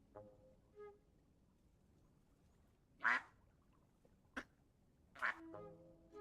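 Ducks quack in the cozy building game Tiny Glade, a few separate bright quacks spaced a second or two apart over a quiet background, with faint soft tones between them and no talking.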